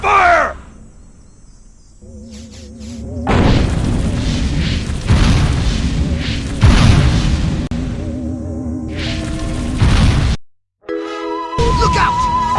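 Weapon fire and explosions in the alien invasion game Destroy All Humans, a dense loud stretch of booming blasts and crackling bursts with warbling sci-fi weapon tones, a brief cut to silence, then more shooting.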